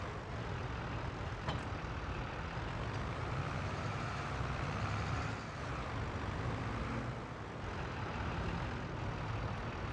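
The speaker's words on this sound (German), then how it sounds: "Erstmal mit dem JCB den Wagen ordentlich hinstellen." A JCB vehicle in Farming Simulator 22 repositions a trailer, its engine a steady, continuous diesel-like drone with slight swells in revving throughout, and no talking over it.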